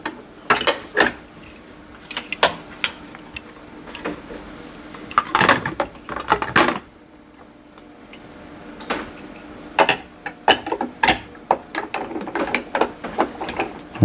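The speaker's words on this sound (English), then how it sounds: "So pulling down will open the chamber, and that will let the ice cream or slushy mix come down" A home soft serve ice cream machine lever being worked, giving repeated close, sharp plastic clicks and ratcheting snaps in irregular clusters, with quiet gaps between bursts.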